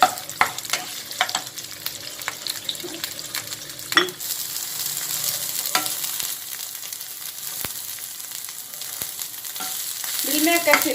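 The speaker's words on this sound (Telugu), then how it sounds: "మిల్ మేకర్ను కూడా వేసేసుకొని ఫ్రై చేసుకుందాం." Soya chunks frying in a pan give a steady, loud sizzle, broken by scraping stirs and occasional sharp clicks of a spoon against the metal.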